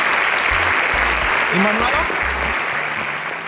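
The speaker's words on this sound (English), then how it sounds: "Please, a round of applause for Nazifi." A live studio audience at a national science competition bursts into a loud, sustained round of applause, clapping steadily throughout while a host's voice speaks over it.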